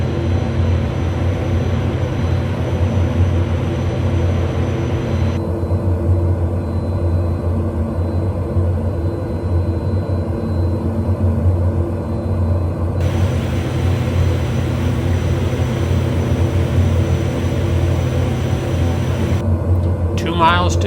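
A Pilatus PC-12 turboprop engine drones steadily on landing approach to Lukla's Tenzing-Hillary Airport in Nepal, a loud, constant low rumble heard from inside the aircraft throughout.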